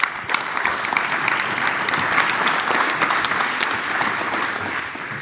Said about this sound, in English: I would ask the audience to please give a round of applause to our wonderful panelists.